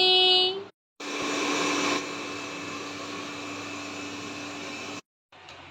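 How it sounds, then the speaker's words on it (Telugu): A hair dryer blows warm air over a freshly bathed pet dog, a steady whining hum that runs for several seconds after a short start, then cuts off abruptly. "ఇది వచ్చేసి హెయిర్ డ్రైయర్ అన్నమాట"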